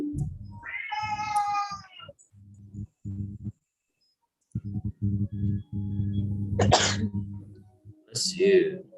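A sneeze bursts out once near the end, close and loud, after a stretch of sustained tonal vocal sound and speech.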